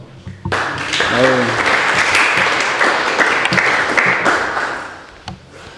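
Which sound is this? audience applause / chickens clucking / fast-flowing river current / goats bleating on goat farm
audience applause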